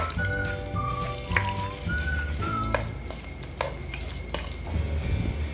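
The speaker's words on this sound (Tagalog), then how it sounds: "Pagka mainit na ang mantika, iprito muna ang patatas para hindi siya maglasog-lasog pag nilagay natin siya mamaya." Potatoes fry in hot oil, a steady close sizzle and crackle with spoon or spatula stirring clicks and scrapes at irregular intervals, no voices.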